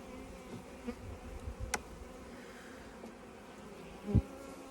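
Honey bees crowd a hive frame of young bees, giving a steady close buzzing hum throughout with a brief louder swell near the end; no voices.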